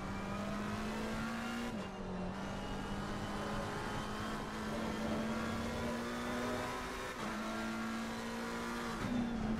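Rear-engined race car accelerating on the Spa circuit in Assetto Corsa Competizione, a steady loud engine drone that climbs in pitch, dips briefly at two gear shifts, then rises again, with no talk.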